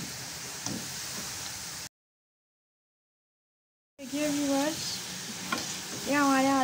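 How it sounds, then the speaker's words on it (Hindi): Sliced potato chips fry in hot oil for French fries, a steady close sizzle that cuts out briefly and returns, with a voice talking over the second part. "देखिए आलू के चिप्स होना शुरू हो गया, लेकिन अब अभी हम इसको इतना पकाएंगे कि ये गोल्डन हो जाए।"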